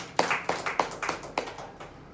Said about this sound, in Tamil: கைத்தட்டி ஆண்டவர் மகிமைப்படுத்துங்க.